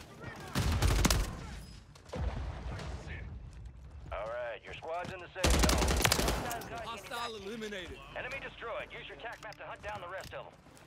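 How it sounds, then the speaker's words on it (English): Gunfire from an enemy team in the Warzone video game, rapid bursts that flare loudly twice amid a busy game mix, with people talking throughout. "I'm getting shot at from another team."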